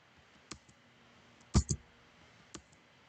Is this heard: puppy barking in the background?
no